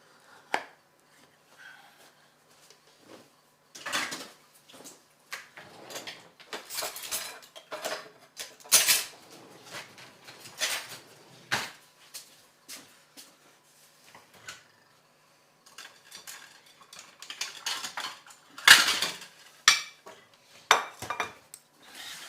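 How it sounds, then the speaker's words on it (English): Utensils cut and lift slices of a no-bake caramel toffee ice cream pie with a crust, giving scattered clinks and scrapes of metal on plate and pie dish with quiet gaps, close and intermittent. "when I'm cutting pies, or cheesecakes for that matter, or cake slices"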